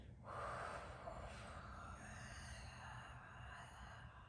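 A long, forceful, breathy exhale during a labor prep breathing exercise, steady and close, stretching across the whole clip over low background noise.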